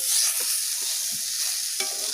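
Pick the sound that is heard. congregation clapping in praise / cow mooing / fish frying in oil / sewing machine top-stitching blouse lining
fish frying in oil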